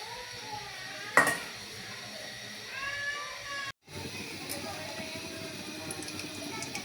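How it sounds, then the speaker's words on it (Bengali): A kadai (wok) is set down on a kitchen stove while okra chuya is being cooked, giving one sharp metallic clank followed by a faint, steady kitchen hiss. "কড়াই চুলায় দিয়ে দিয়েছি"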